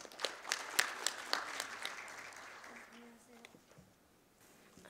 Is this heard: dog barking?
no